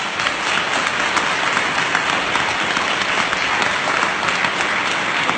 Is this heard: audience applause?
yes